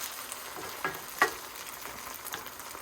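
Italian-style fried rice sizzles in hot oil in a pan, a steady crackling hiss broken by a couple of sharp scraping pats, close and without voices.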